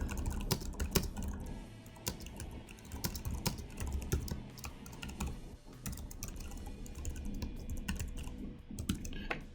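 Fingers tapping out a short note on a computer keyboard, a quick irregular run of close key clicks continuing steadily with small pauses, no talk.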